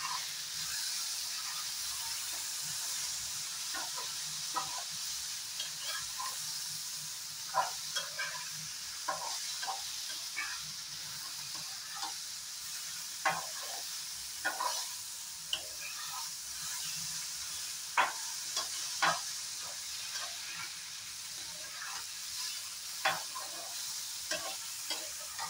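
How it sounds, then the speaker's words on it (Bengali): A vindi curry fries in a pan after a sprinkling of rice flour, giving a soft steady sizzle with recurring stirring scrapes and clinks at close range throughout. "তো এখন আরও 1 মিনিটের মতো ফ্রাই করে নেব"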